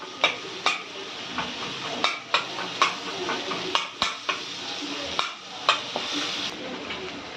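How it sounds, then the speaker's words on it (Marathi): Tomatoes with turmeric being stirred in a frying pan for a vegetarian thali, with repeated sharp scrapes and clinks of a spoon against the pan over a steady sizzle, close and fairly loud, no talking. "थोडी हळद टाकूया आता हे हलवून घेऊया"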